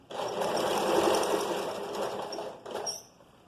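A sewing machine runs steadily through a vest seam for about two and a half seconds, loud and close, then slows and stops with a brief mechanical clatter at the end.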